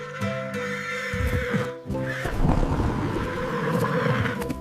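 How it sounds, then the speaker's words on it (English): A horse on a farm neighs in a loud, drawn-out whinny with a wavering pitch, heard alone with a low rumble underneath and no talking. "This is a horse."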